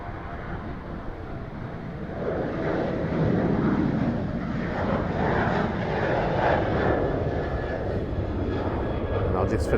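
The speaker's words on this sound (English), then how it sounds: "the jet noise in the background" A jet airplane roars continuously as it takes off from the runway, a loud, broad rumble that swells slightly partway through and holds steady.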